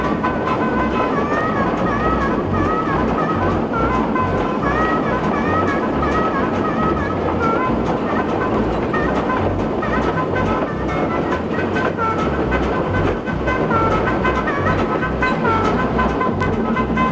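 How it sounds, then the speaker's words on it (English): A Porter steam locomotive runs on the Rainier Scenic railroad, a loud steady rumble and rolling clatter of wheels and cars that continues for the whole stretch, close by and without talk. "Old steam engines like the Porter are proof that the familiar saying,"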